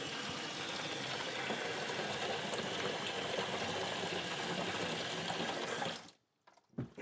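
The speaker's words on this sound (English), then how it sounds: "Let's go ahead and pour out this water." Water pours steadily out of a bucket during ice maker troubleshooting, a loud continuous splashing gush that runs for about six seconds and then stops abruptly, leaving a few faint drips and knocks.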